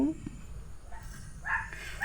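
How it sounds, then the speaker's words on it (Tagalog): A household dog gives a few short barks and yips at moderate distance, mixed in with indistinct talk and background household noise. "Nangangaway na yung aso ni anak."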